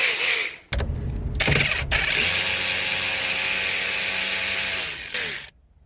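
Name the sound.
hand ratchet tightening clutch bump stop bolt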